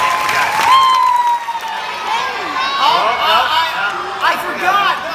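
Audience applause with crowd cheering and chatter at an evening event, a steady wash of clapping and voices that holds for several seconds.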